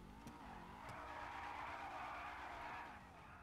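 Tires skid and screech in GTA 5 as a car speeds off, a steady loud squeal sustained for about three seconds over engine noise.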